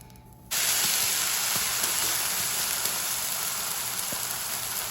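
An uthappam, just flipped on the pan, sizzles with a loud, steady broadband hiss that starts abruptly after a brief quieter moment and holds evenly, with faint crackles on top and no talking.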